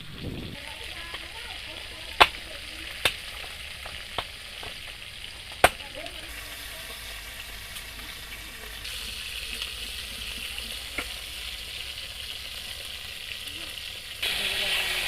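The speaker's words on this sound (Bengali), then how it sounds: "এই লাস্ট মাথাটা একটু ভালো করে বেশি করে ভাজা হচ্ছে" A snakehead (shol) fish head frying in a pan, a low steady sizzle that grows louder near the end, broken by a few sharp clicks and clatters of utensils, with a voice speaking over it.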